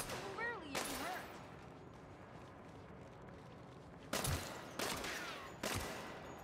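Gunfire in Saints Row, arriving as several loud, sharp blasts spaced a second or so apart, with a voice speaking early on over a steady game background.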